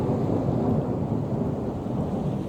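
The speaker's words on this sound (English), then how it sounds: "Should be thunder any second." Loud, steady rumble of thunder during a summer storm near Mount Rushmore, South Dakota, with rain, a dense low roll filling the whole stretch without letup.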